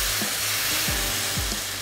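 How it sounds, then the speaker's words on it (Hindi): Bitter gourd and mutton fry in a pan with onions, giving a steady close sizzle with a few soft scraping stirs over about two seconds and no voices. "थोड़ा सा और भूनते हैं"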